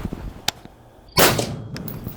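A single sharp gunshot fired with the Banish Speed K suppressor set to its unsuppressed setting, one loud burst that tails off quickly, preceded by faint handling clicks.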